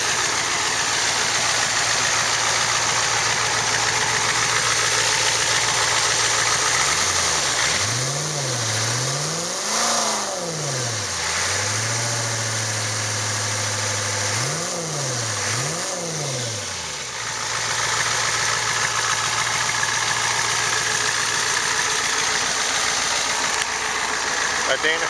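A 1992 Ford F250 XLT pickup with a 7.3 diesel, automatic transmission and 236,202 miles runs close by at a steady idle, with two sets of rising and falling revs in the middle before it settles back to idle.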